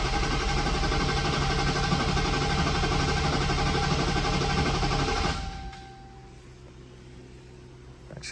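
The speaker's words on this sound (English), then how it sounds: "I'm gonna clear flood mode to let it crank and build up some oil pressure" A 2018 Dodge Challenger Hellcat engine cranks steadily in flood mode with the starter droning continuously, then cuts off abruptly, leaving a quieter low hum.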